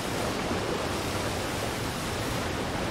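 A waterfall in the video game Super Mario Odyssey roars as an even, unbroken rush of water noise, steady and moderately loud, with no voices or other sounds.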